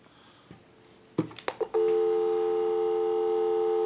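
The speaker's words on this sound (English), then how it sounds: "So we'll go ahead and give you some dial tone." A 3-slot 236G payphone gives a handset click and a few short clunks, then a steady, loud continuous dial tone holds to the end.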